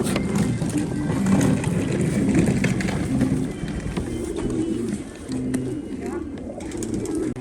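Pigeons coo steadily at a pigeon auction, several birds close by in a continuous low murmur under a voice.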